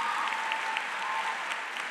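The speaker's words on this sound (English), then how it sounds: "let's give you a round of applause" A school graduation crowd applauds veterans in a steady, sustained burst of clapping, fairly distant and even throughout.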